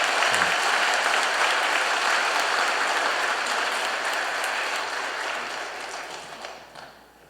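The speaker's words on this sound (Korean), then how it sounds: "우리 다시 한번 격려의 박수를 한번 칩시다." A church congregation at a Sunday worship service claps in encouragement after a special song, a dense, loud wash of applause that holds steady and then fades out over the last seconds.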